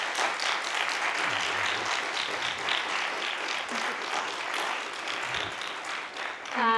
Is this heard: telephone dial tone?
no